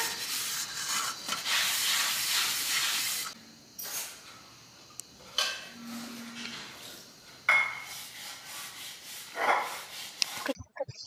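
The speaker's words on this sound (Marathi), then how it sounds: "गेटच्या जवळ बैस मी भांडे घासते" Pots and dishes being scrubbed by hand near a gate at home, a steady rubbing and scraping with occasional clinks, close by, with brief voices and a dog barking at moments.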